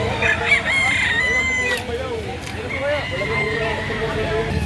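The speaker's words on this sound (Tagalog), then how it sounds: "Gandang manok." Roosters crow loudly and close at a poultry market in Lipa City, Batangas, with drawn-out cock-a-doodle-doo calls and clucking overlapping a noisy crowd background.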